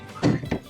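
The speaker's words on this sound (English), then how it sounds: "close this up and make sure our fungicide is closed up" The lid of a fungicide container is pushed shut: two dull plastic thunks in quick succession, close by and brief, with no voices.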